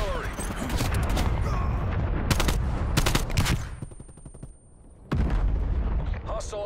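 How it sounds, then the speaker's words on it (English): An artillery strike in Call of Duty: Black Ops Cold War multiplayer, with loud rapid bursts of gunfire and heavy booming impacts, a brief lull, then another blast, while a radio voice talks over it. "Incoming artillery."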